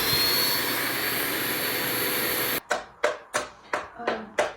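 A household vacuum cleaner roars loudly and steadily, then cuts into a series of about six sharp surges, each starting abruptly and fading, spaced roughly half a second apart.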